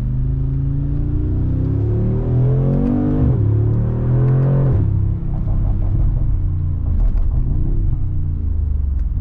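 A 2020 Mercedes-AMG G63 in Sport Plus mode roars loudly and close, its deep engine rising and falling through repeated revs with a low, continuous rumble.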